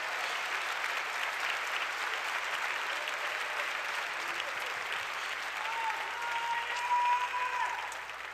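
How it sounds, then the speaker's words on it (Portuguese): A church congregation at a Baptist Sunday morning service applauds steadily and loudly for several seconds, a dense even wash of clapping with no talk over it. "pode aplaudir Jesus."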